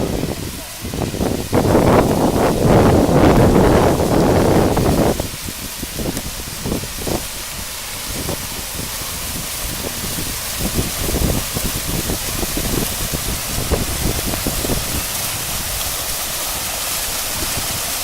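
Rushing water from a waterfall feature on a golf course at Balfour, British Columbia, a steady broadband roar running throughout, louder at first and then settling into a continuous hiss under occasional voices.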